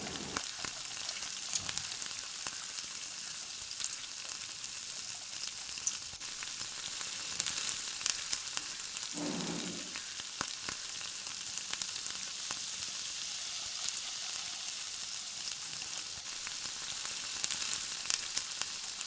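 Thin spiral potato slices frying in hot oil, with no salt or spices added, make a steady bubbling sizzle throughout. A brief louder stir or splash comes near the middle, and no one speaks.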